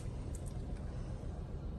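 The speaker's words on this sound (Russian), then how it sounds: "Двигатель у нас запущен, работает идеально ровно, никаких ошибок нет." A 2021 Geely Coolray's engine idles as a steady, quiet low rumble that holds evenly for the whole short stretch, with no other sounds.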